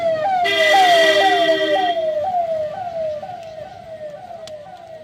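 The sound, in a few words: ambulance siren passing at speed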